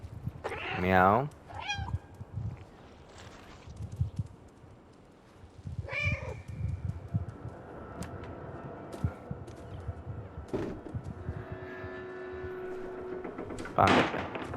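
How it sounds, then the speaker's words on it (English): Several loud meows come from the cat in the video game Stray, two of them prominent and drawn out, over quiet footsteps and light game ambience, with someone talking at times. "Meow."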